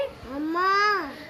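A voice gives a short, drawn-out rising and falling call imitating a cow's moo, heard alone and close.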